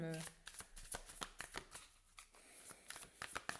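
Tarot cards being drawn and laid down during a reading, a quick series of soft slaps and riffling shuffles, quiet and close, with a voice speaking underneath.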